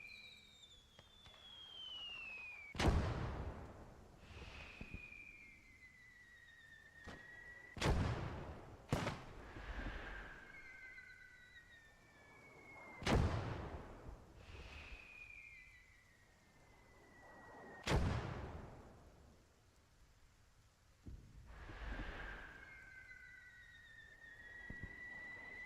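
Mortar shells fired in the World War II strategy game Gates of Hell: about six heavy, booming launches spread over the clip, each followed by a descending whistle of incoming rounds, under quiet battlefield ambience.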